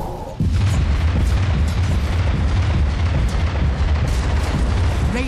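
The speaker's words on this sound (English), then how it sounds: "Radiant's bottom tower has fallen." A tower collapses in Dota 2 with a loud, sudden rumbling boom that starts sharply and then holds as a sustained, crumbling roar until the end.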